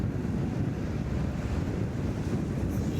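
Strong wind buffets a roadside at a cycling stage race, producing a continuous low rumbling roar of gusts with no break across the moment.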